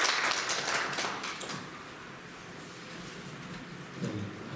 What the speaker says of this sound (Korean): 목사님 나오실 때 환영의 박수 같이 하도록 하겠습니다